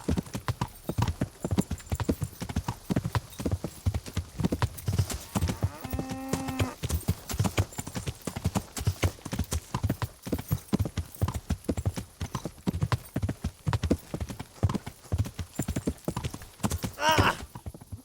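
Steady clip-clop of horse hooves trotting throughout in the video game Kingdom Come: Deliverance, with a brief whinny partway through and a louder sweep near the end.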